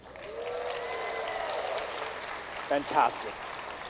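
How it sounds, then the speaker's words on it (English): Applause from a summit audience of teachers in a large hall, a steady rain-like wash of clapping heard from a distance, with a man's brief spoken remark near the end. "By a round of applause, it makes some noise"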